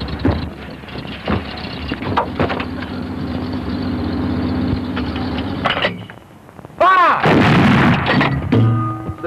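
Army cadet artillery gun firing in a 1970s setting, heavy booming blasts with a sustained low engine-like rumble, then a sharp loud report and echoing tail near the end.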